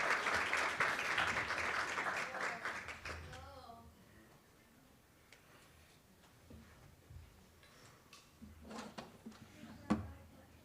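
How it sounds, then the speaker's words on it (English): Conference audience at a family and research weekend claps loudly for two speakers being invited up, the applause dying out after a few seconds, followed by quieter room noise, shuffling and faint talk. "Give them a round of applause for Kelsey"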